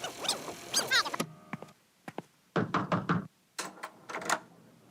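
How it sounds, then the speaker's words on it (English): Knocking on a door comes in several quick clusters of sharp raps, loud and close, separated by short pauses. "And Rita knocked on our door"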